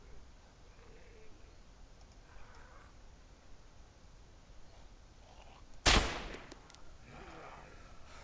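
Gunfire from a gun in the DayZ survival game, a single sharp, loud shot with a short decaying tail, standing out from quiet background ambience.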